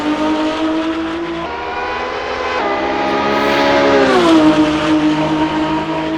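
Porsche race car engine in an Assetto Corsa replay, a loud, steady harmonic drone with pitch climbing and dropping as the car passes, then rising again, no talk.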